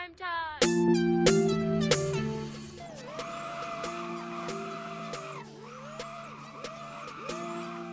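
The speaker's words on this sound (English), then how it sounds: "The car you see me driving in is called the Mirage GT, an old limited car that came in early 2021. It sounds very good." A Mirage GT car in the Roblox game Driving Empire drives with a synthetic, tonal engine hum that shifts pitch through gear changes, alongside a few melodic game tones at the start, moderately quiet throughout.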